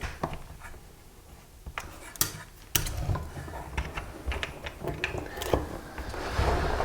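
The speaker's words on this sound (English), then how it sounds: "In order to remove the reed blocks, all you have to do is unscrew them here." Screws being backed out of accordion reed blocks, a close series of small clicks, ratcheting ticks and knocks, irregular and fairly faint, with a few sharper taps.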